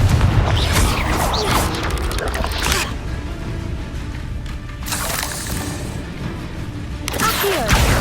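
Confringo blast spells go off in Hogwarts Legacy, a few loud crackling bursts near the start, middle and end, with a rumbling low tail filling the gaps between them.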